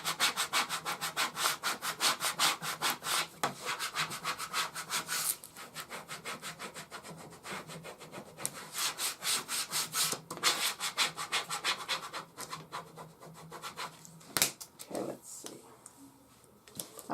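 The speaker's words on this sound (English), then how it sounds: "I'm gently pulling it back on itself. I'm not ripping, I'm just peeling gently" Adhesive vinyl transfer tape being peeled slowly back on itself from a wooden shamrock sign, a steady close scratchy rubbing and rasping that runs on with brief pauses and small clicks.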